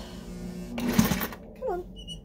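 A sewing machine stitches a basting line through bedsheet fabric for a poet shirt: a low hum, then one short, loud burst of stitching, followed by a brief squeak.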